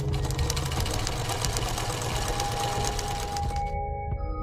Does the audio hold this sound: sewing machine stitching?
yes